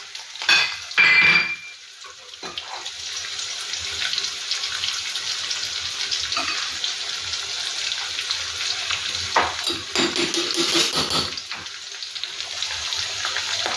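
Garlic, green chillies, dried red chillies and shallots sizzle in hot oil in a pan, a steady hiss after a brief clatter, with occasional stirring scrapes.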